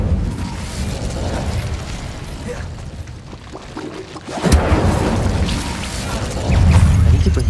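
A fiery spell blast goes off in Hogwarts Legacy, a loud whooshing burst that swells midway through and again near the end over a dense, steady game soundscape, with no talk.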